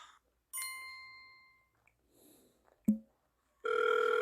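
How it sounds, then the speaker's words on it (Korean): A telephone rings in a Lotte World part-time job horror game, a short electronic ring tone followed by a sharp knock and then a sustained ringing tone, quiet overall. "입구에 전화해봐야겠다"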